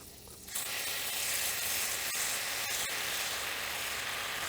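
Freeze-dried raw beef tri tip, seasoned with salt and pepper, hitting a crowded frying pan and bursting into a loud, steady sizzle that holds close and continuous after a quiet start.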